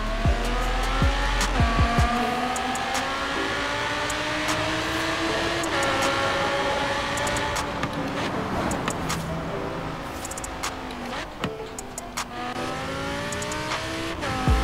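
An Audi R8 V10 Plus engine in Forza Horizon 3 roars and revs continuously through a tunnel, with rising and falling pitch, loud and echoing.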